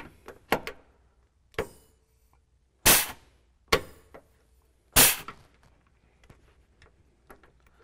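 A rivet nut gun sets a stainless steel threaded insert for mounting a circuit breaker during an alternator install, a series of sharp metallic clicks and clacks, several loud and close with quiet gaps between.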